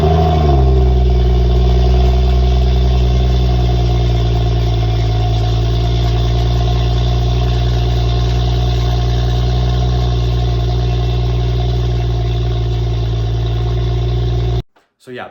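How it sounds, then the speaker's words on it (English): A BMW 335i with the N55 engine and a budget aftermarket exhaust cold starts with a sharp initial rev flare that settles into a loud, steady, deep high idle up close, cutting off abruptly near the end. "the cold start on it actually sounds really good"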